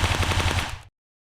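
A short, loud burst of rapid placeholder gunfire from a first-person shooter game, several shots fired in quick succession before cutting off abruptly.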